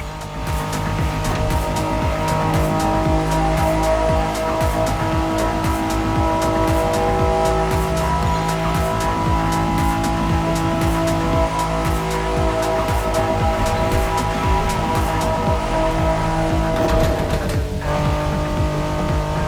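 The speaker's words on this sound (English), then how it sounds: "This is the Liberty Walk version of the '92 Honda NSX." A Liberty Walk-modified 1992 Honda NSX races in The Crew Motorfest on a speedway with tunnels, its engine droning loud and steady throughout with sustained harmonic whine and faint tire noise near the end.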